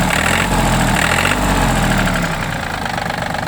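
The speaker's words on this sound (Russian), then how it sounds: "Давайте погазуем." A Yanmar RS270 three-cylinder tractor engine runs steady and loud, rising briefly in pitch as it's revved, then settling back to a rough, rumbling idle.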